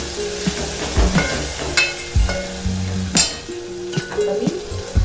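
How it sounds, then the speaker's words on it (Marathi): Onion and tomato fry in hot oil, a steady sizzle running throughout with scattered clinks and scrapes of a utensil against the pan. "कांदा टोमॅटो चांगला फ्राय झालाय तेलात"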